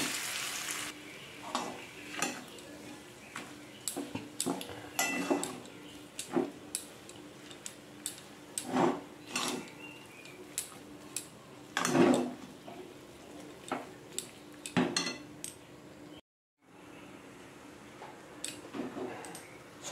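Boiled potato being stirred into a masala dosa filling in a pan: repeated spatula scrapes and taps against the pan with a faint sizzle underneath, rhythmic and close, with one brief pause.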